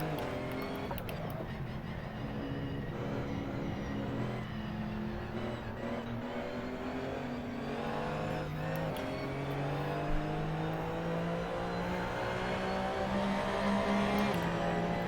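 Race car engine of a McLaren MP4 in the racing game Assetto Corsa, a loud, continuous revving drone that climbs through gears with rising pitch sweeps, close and dominant throughout.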